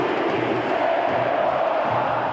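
Football crowd booing players at the Maracanã stadium, a dense sustained roar of many voices filling the stands, steady and loud throughout.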